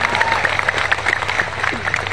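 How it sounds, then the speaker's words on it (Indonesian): Crowd clapping for the regent of Rokan Hulu at a public gathering, a dense patter of hands with faint voices and a low hum beneath, steady throughout. "Tepuk tangan dulu dong buat Bupati panjenengan."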